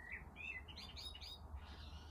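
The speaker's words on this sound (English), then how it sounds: "I can hear the birds singing." Birds singing outdoors, heard faintly through open windows and doors: a few quick high chirps and trills over a low steady room hum.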